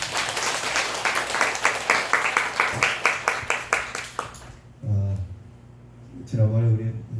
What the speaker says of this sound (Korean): 우리 환영의 박수 한번 하겠습니다